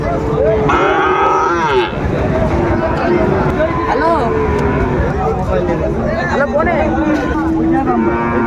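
Sahiwal cattle mooing at a busy livestock market in Dinajpur, with repeated loud, drawn-out moos from several animals close by over a constant crowd babble and people talking throughout.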